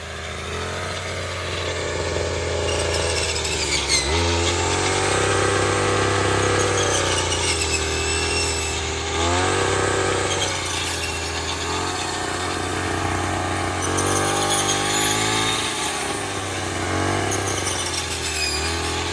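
A machine harvesting rice in a Konkan paddy field runs with a steady, loud, close mechanical engine drone that rises and dips slightly throughout, with rattling and whining overtones and no clear speech.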